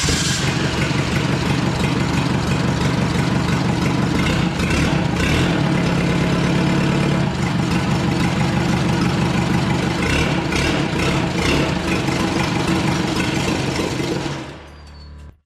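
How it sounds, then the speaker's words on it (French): A car engine, freshly assembled under the hood during a project build, runs at a steady, loud, continuous idle right up close, then cuts off near the end. "Le moteur démarre sans problème particulier"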